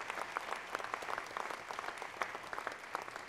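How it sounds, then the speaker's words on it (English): At a historic preservation awards ceremony, a small audience applauds with a brisk crackle of individual claps that stays fairly quiet and steady, without any speech. "So please, everybody, a big round of applause for these guys."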